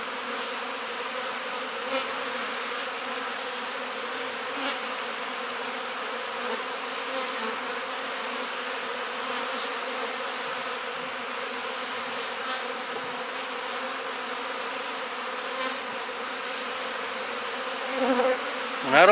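Honey bees hum around an open hive during a frame inspection, a dense, steady buzzing swarm close by with individual bees droning past, and a brief handling clatter at the very end.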